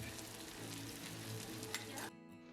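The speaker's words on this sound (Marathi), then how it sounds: "एक मोठा कांदा चॉप करून घेतला व तो तेलामध्ये फोडणी दिली" Chopped onion sizzles loudly in hot oil in a kadhai, a dense close crackle with a few sharp pops that cuts off abruptly near the end, with no speech.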